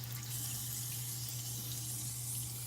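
Tap water runs steadily into a sink while silicone cleansing brush heads are rinsed beneath it, a soft continuous splashing hiss at low level with no talk.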